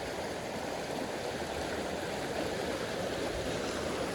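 Water flowing in a stream where someone is fishing, a steady, dense rushing wash that stays even and unbroken throughout, with no voices.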